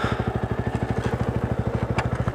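A new Yamaha YZF R125 motorcycle engine runs close by with a loud, rapid, even thumping pulse that holds steady throughout.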